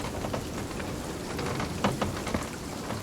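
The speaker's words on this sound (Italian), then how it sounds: "C'è una tempesta incredibile come sempre" A storm at sea in the pirate video game Sea of Thieves: dense steady rain falls throughout, with a few sharp crackles and low rumbles of thunder.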